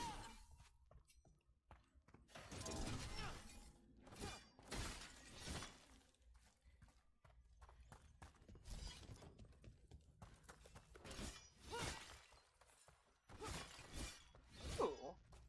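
Clay jars shattering in Dragon Age: The Veilguard, a series of crunching, breaking impacts in irregular bursts, close and fairly loud, mixed with footsteps and game ambience.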